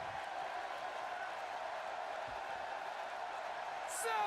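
Arena crowd in the wrestling video game WWE 2K16 roaring steadily throughout, a dense continuous wash of cheering that swells slightly louder near the end, with a brief sharper burst at the close.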